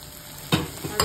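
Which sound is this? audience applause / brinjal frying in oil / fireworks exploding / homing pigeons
brinjal frying in oil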